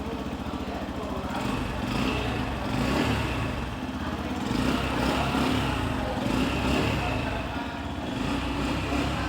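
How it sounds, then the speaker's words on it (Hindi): A Yamaha 155 cc motorcycle engine runs steadily and close by, its throttle blipped a few times so the exhaust note swells and settles in waves. "थोड़ा सा थ्रॉटल देता हूँ मैं।"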